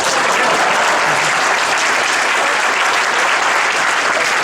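Loud, dense applause from a large audience welcoming a Hindi poet on stage, a steady roar of clapping filling the whole stretch without pause.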